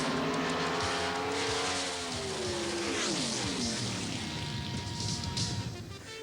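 Bob Glidden's Pro Stock drag race car at Seattle International Raceway, heard onboard during a record run: a loud, sustained engine roar climbing through gear changes, raw and close the whole way.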